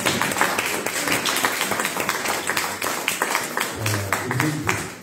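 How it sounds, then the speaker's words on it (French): Sustained applause from a conference audience at a book talk, dense steady clapping filling the room at moderate distance, with a faint murmur underneath. "je demande à l'assistance d'applaudir ça"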